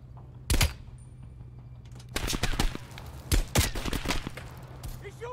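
Gunfire rings out in Call of Duty Black Ops Cold War, with a sharp early shot followed by a cluster of rapid bursts and a few trailing cracks against a low steady hum, moderately close.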